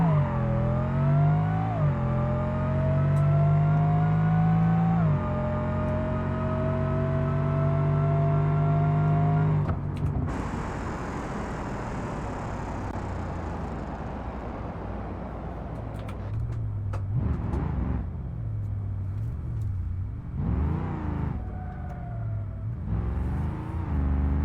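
A car engine in BeamNG.drive revs hard and climbs steadily in pitch, shifts around five and ten seconds, then drops to a rougher rumble with repeated surges, loud and continuous with no voices.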